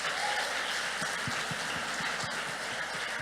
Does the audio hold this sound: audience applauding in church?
yes